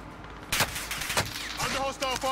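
Hostile gunfire in a shooter video game: sharp bursts of shots around half a second and just past one second, then a rattling, tonal stretch of game effects, fairly loud against a steady background.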